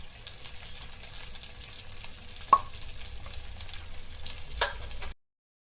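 Masala-coated fish frying in a pan, a steady close sizzle with a few sharper pops and crackles throughout, ending abruptly.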